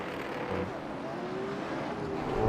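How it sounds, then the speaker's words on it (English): A late model race car engine revs under a caution period, a steady broadband roar with rising and falling pitch sweeps that swell slightly louder toward the end, mixed with other engines nearby. "Revving it up under caution."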